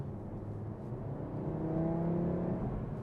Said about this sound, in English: The 5-cylinder is literally half of that V10, and it makes a great sound.